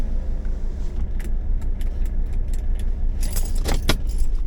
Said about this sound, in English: put my keys down